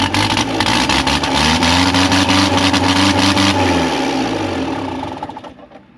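An engine that has sat unused cranks and fires up, then runs loud and close for a few seconds with a lumpy, rhythmic idle before it is shut off and winds down into silence.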